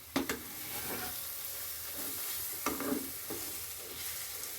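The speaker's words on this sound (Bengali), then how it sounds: "কন্টিনিউ নাড়িয়ে শুকনো শুকনো করে নিতে হবে" Dal is stirred in a kadai until it dries, with a soft sizzle beneath a few sharp spoon scrapes and taps against the pan, close and moderately quiet.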